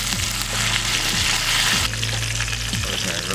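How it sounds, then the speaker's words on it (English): Steak sizzles and bubbles in hot oil and butter with rosemary in a pan, a steady close frying hiss with low rhythmic scraping or basting pulses underneath. "Start taking that hot butter that's bubbling, and you just start pushing"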